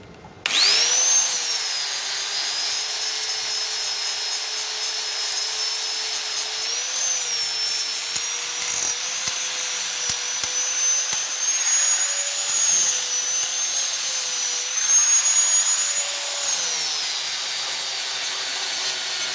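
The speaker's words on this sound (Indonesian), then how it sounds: "Kita coba dulu gerinda" An angle grinder grinds down a fresh arc-welded seam in one long, loud, continuous whine that shifts slightly in pitch as the disc bears on the metal, with no talk over it.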